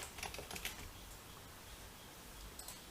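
A computer keyboard is tapped in a few quick keystroke clusters, faint and close against a steady background hiss, with no speech.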